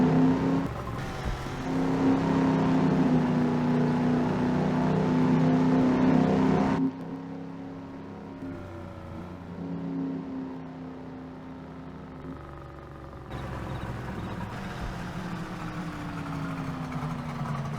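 A Dodge Charger muscle car engine in Farming Simulator 22 roars at high revs, then drops to a lower rumble before climbing again, steady and close with no talking.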